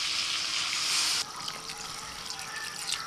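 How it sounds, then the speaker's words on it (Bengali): Water poured into a pan of frying potatoes and chopped tomato, a fairly soft, steady splash and hiss that drops back after about a second to a quieter sizzle. "এবার দিয়ে দিচ্ছি জল"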